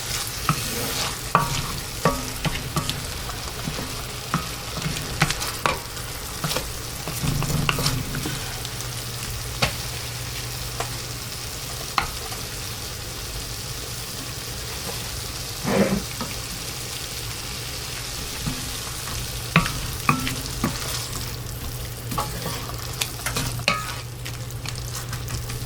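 Butter chicken sauce with tomato and cream simmers and bubbles in a pan, a soft continuous sizzle broken by frequent spoon scrapes and clinks, with no talking.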